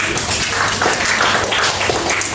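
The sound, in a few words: class applause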